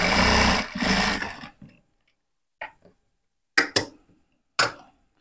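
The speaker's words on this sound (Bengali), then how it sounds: "এটা আমরা চাপ সেলাই দিব।" A sewing machine stitches a boy's half pants for ages five to six, running in a long continuous burst at first, then after a quiet gap giving several short, sharp runs.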